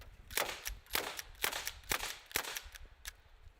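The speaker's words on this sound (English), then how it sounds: "Now how about a little bit of slam fire into these windshields?" Slam-fire shots strike windshields in a rapid series of about eight sharp cracks at an uneven rhythm, loud and close with no voices.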